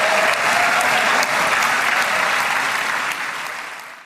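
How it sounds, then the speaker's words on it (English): A large audience gives Donald Trump a standing ovation at his speech with Netanyahu, dense sustained clapping filling the hall, loud and even before tapering slightly at the end. "this is a huge standing ovation, one of dozens of standing ovations and huge rounds of applause for Donald Trump"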